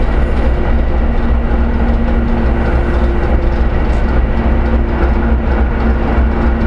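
A ChME3 shunting locomotive rumbles steadily, pushing rail cars, with rhythmic clacking of wheels on rails and a low engine drone, continuous and close, no voices.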